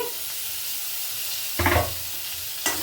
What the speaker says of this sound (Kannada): ಉಪ್ಪು ಹಾಕೊಂಡು ಫ್ರೈ ಮಾಡ್ಕೊತಾ ಇದೀನಿ